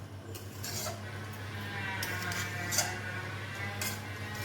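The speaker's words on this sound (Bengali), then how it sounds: "খুব সুন্দর করে এখন এটাকে চালের সঙ্গে এই মশলাটাকে মিশিয়ে নেব" A spoon scrapes and clinks against a rice cooker pot while masala is mixed into rice, soft intermittent metallic strokes over a steady low hum, close and unaccompanied by talk.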